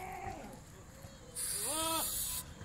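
A young goat on a farm in Dera Ghazi Khan gives a single short, nasal bleat under steady background hiss and faint murmuring voices.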